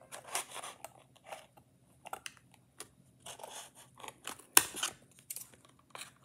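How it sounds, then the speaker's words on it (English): Scissors snipping the cardboard flaps off a small box, a series of short crisp cuts and crunches at close range, irregularly spaced with quiet gaps between them, no talking. "And cut off all the little flaps like this."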